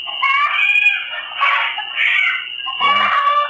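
Chickens squawk and cry loudly in repeated bursts, close by, shrill calls rising and falling with short gaps between them, with no voices.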